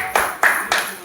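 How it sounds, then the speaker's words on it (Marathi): Three or four short, sharp claps from people at a family housewarming gift-opening, spaced evenly and sounding close and loud. "टाळ्या."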